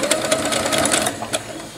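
Sewing machine running a straight stitch through terry cloth, a steady close whirring with rapid needle pulses that continues briefly, then slows and stops with a final short burst.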